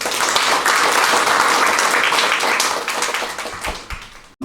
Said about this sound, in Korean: 박수 많이 쳐주시고 좋은 강의 많이 들으시기 바랍니다.